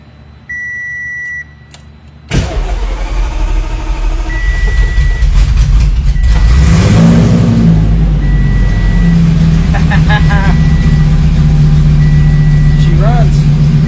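A car engine cranks and fires after the key ignition and fuel pump are switched on, catching at about two seconds and settling into a loud, steady idle with some revving, while short electronic beeps sound intermittently.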